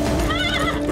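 A horse gives a loud, close whinny in a historical drama about Sultan Salahuddin Ayyubi, a rising and falling neigh that fills the moment with faint hoof clatter beneath.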